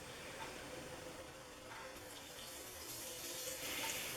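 Milk poured from a container into a bowl of bran for muffin batter, a quiet, steady liquid trickle lasting a few seconds with faint room noise behind it.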